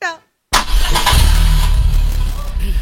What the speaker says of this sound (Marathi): गाडी सुरू करू? हा गाडी सुरू कर.